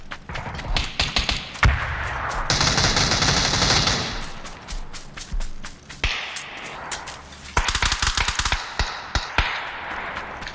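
Gunfire in the PUBG battle royale game, loud bursts of rapid automatic shots alternating with single cracks, close and sharp across the whole stretch.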